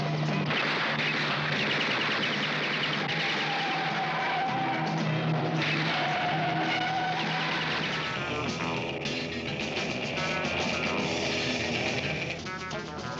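Engines roar and tires squeal in a 1968 sports car racing sequence, the sound loud and dense, with swelling skids and bursts of rapid cracking sounds layered over the continuous racing noise.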